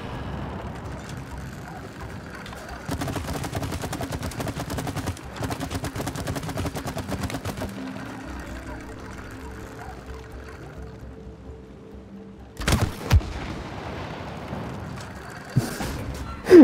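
Gunfire in the video game It Takes Two, heard as sustained rapid crackling shots with a low hum underneath, then a couple of sharp louder bursts near the end.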